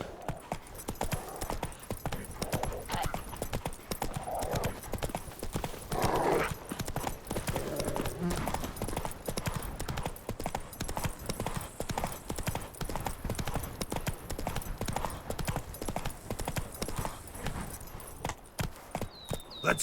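Roach, a horse in the video game The Witcher 3, gallops with a steady, rapid clip-clop of hooves running loud and continuous throughout, with a brief whinny-like tone near the middle.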